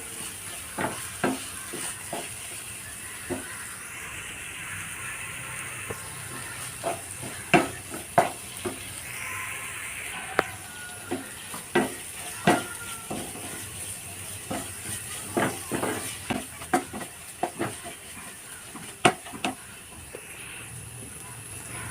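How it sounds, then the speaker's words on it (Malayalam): Chopped tomatoes sautéing in a pan for cabbage masala roast, a steady soft hiss broken by repeated sharp clicks and scrapes of a spoon stirring, close and moderately loud. "തക്കാളി ചെറുതായിട്ട് കട്ട് ചെയ്തിട്ട് ഇട്ട് കൊടുത്താൽ മതി തക്കാളിയുടെ പച്ചമണം മാറുന്നത് വരെ നന്നായിട്ടൊന്ന് വഴറ്റിയെടുക്കാം"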